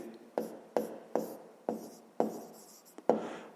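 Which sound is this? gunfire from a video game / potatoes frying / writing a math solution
writing a math solution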